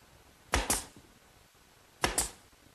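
Two pairs of sharp brad-nailer shots pin glued trim onto a DIY console table, each pair a quick double crack about a second and a half apart, close by in a quiet room.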